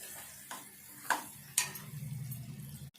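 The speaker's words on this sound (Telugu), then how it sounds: "కొద్దిసేపు అయితే మంచిగా స్టవ్ సిమ్లో పెట్టుకొని కలుపుకోవాలి" Boiled eggs with salt and chili are stirred in a pan on low flame for egg soup: a few distinct spoon taps and scrapes ring out over a soft, close sizzle.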